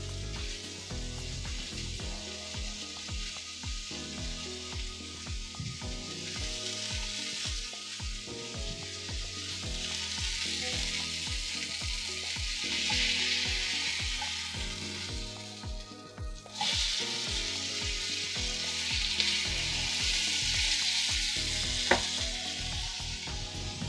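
Ground meat searing in a pan for Salisbury steak, a loud continuous sizzle that swells and holds for over twenty seconds, close, with a steady faint beat underneath.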